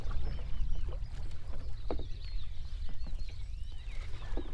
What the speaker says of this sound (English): Can you hear the bird song?